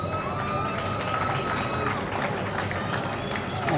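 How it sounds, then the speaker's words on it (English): Crowd at an awards ceremony cheering and clapping for Captain Ralston, a steady dense wash of applause and voices filling the space without pause. "you hear the cheering party for Captain Ralston, who's served in the JDF for 31 years"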